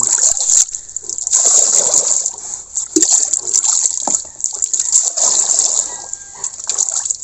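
Water pours steadily and splashes into a bucket for a sow's wet feed, close and loud, running for several seconds with small surges.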